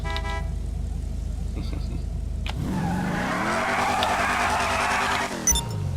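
A deep muscle car engine from a stock Vigero in GTA 5 Online idles with a low rumble, then revs up sharply into a steady, loud roar before easing off.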